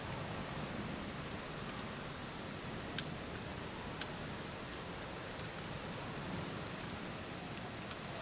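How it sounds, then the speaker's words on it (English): Steady rain and storm noise from a Roblox game, a dense even hiss with a few faint drop ticks and no thunder claps standing out, constant and moderately quiet throughout. "it's raining, it's storming."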